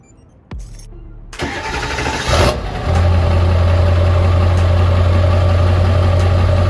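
A 7.3 Powerstroke diesel truck engine cranks briefly, catches, and settles into a loud, steady low idle close by.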